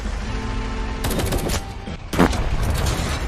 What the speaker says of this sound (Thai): เรายิงเบคอนไม่โดนได้ไงเนี่ย